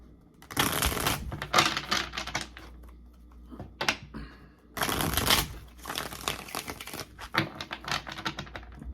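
Tarot cards are taken out and shuffled close to the microphone: a burst of riffling and handling, a brief pause, then a second long stretch of crisp papery shuffling and tapping.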